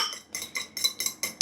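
A whisk clinks rhythmically against a white bowl while a sauce is emulsified, a steady run of about six bright metallic taps spaced evenly and close up, ending on a sharper knock.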